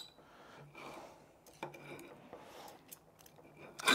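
A knife cuts into wild rabbit cooked in a tandoor oven, giving quiet scraping and tapping on a plate, with a few sharper clinks and a louder clatter at the end.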